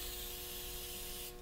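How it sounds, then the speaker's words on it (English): Release agent is sprayed onto a Bondo mold of a baby opossum head: one continuous, close, steady aerosol hiss that lasts about a second and a quarter, then cuts off abruptly. "we'll spray a little more release agent"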